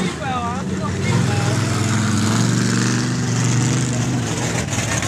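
A Geo Tracker's engine revs hard and steadily while stuck in a muddy mud-bogging pit, its loud droning roar sustained throughout with a rising push in the middle.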